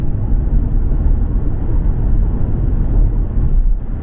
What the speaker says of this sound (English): Down to 50 again, pull the stalk back. Car starts accelerating.